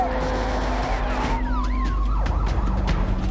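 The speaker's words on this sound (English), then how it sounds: "Sirens lit up Bondi." Wailing police sirens sweep up and down over road traffic in Bondi, several overlapping tones, moderately close and loud.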